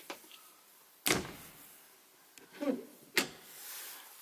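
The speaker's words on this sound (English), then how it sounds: "You've got the clunk of the magnet closing it, and doors close like that" Two solid clunks from a campervan door swung shut and caught by its magnet, sharp and close with quiet gaps between them and a smaller knock in the middle.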